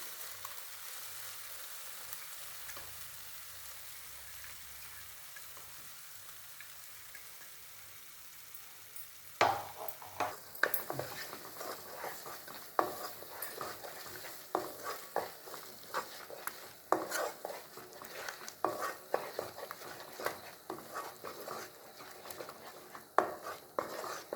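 Ground tomato paste dropped into a pan of fried onions for a green peas masala, a sudden loud sizzle after quiet low frying, then continuous hissing with stirring clinks and scrapes.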